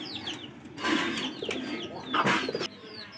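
Pigeons of a Giyasunni cross coo softly at close range in a loft, with rising coo calls in short bursts, faint chirps and a flutter of wings, with no one talking.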